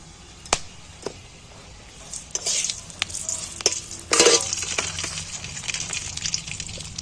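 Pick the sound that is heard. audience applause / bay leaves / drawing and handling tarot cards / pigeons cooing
bay leaves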